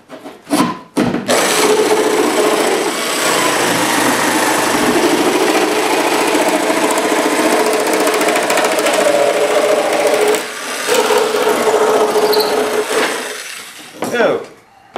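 A power saw cuts into wood during damage repair, a steady, loud rasping drone running nearly without pause for about thirteen seconds, with brief stops near the start and a short break before a final burst.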